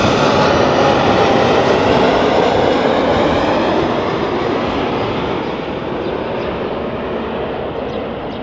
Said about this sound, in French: C'est fou, il va atterrir.